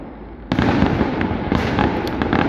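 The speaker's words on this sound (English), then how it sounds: "also I can only see the fireworks, but it's better than nothing" Fireworks burst over Alton Towers on a November night, with a sudden loud onset followed by repeated booms and crackling pops layered densely for the rest of the moment.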